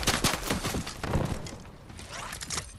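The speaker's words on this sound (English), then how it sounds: "Oh, shots. Oh, from behind us." Rapid bursts of video game gunfire crackle continuously, dense and overlapping, like a firefight at moderate distance.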